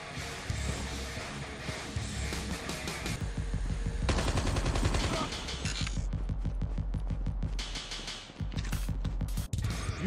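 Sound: gunfire in the video game Call of Duty Mobile

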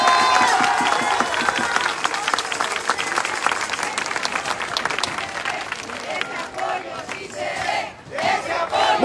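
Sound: crowd cheering and applauding at campaign rally

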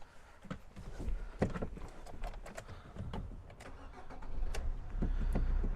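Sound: Fiat Fiorino van engine starting

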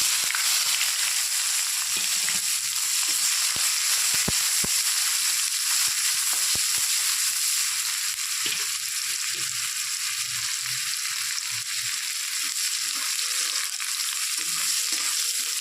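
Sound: frying chopped onion with cardamom and cumin

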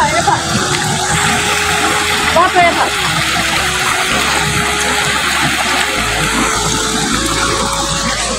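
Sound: water-powered mill (ghatta) grinding grain

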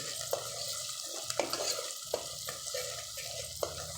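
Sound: frying ginger garlic paste, stirring in red chilli powder

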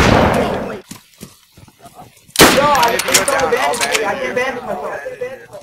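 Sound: gunfire in the video game DayZ

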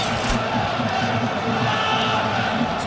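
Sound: boxing crowd roaring

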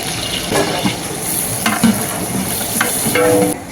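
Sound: onion sizzling as it is added to hot oil

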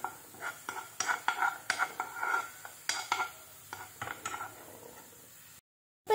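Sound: stirring green chilli and garlic in coconut oil

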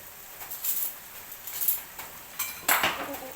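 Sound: stirring stir-fried bamboo shoots with pork and coconut milk

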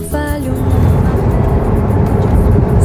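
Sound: convertible car driving down the road with top down

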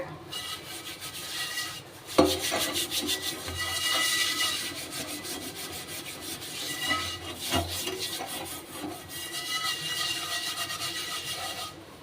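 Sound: scrubbing rusty iron pan

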